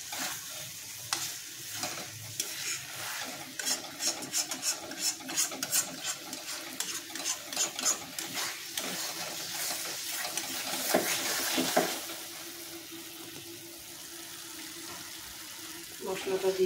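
Masala is stir-fried with pre-fried chicken for chicken tikka masala: a steady sizzle under rapid, rhythmic scraping strokes against the pan, fading to a gentler fry, with a voice speaking faintly at times.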